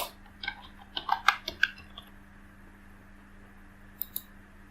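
Short bursts of computer keyboard typing, entering an email and password: quick clustered keystrokes in the first two seconds, a couple of isolated taps near the end, close and quiet.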